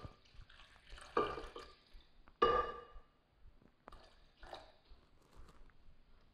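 Water is poured into a blender of strawberry mixture for a mimosa, giving two brief splashing gushes and some soft drips, close and quiet with no talking.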